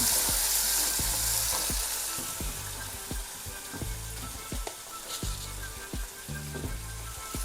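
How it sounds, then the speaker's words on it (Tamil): Onion, curry leaves and tomato sizzle loudly in a pan while being stirred for a ridge gourd gravy, a dense hiss with a regular series of scraping strokes, close up and without talk. "தக்காளி சேர்த்துருவோம் சேர்த்துட்டு நல்லா கிண்டி விடலாம்"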